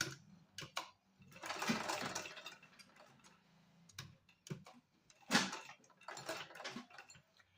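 A sewing machine stitches a folded pleat in cloth for a small winter dress, heard as close bursts of fast mechanical whirring broken by pauses and a few sharp clicks, with no talk.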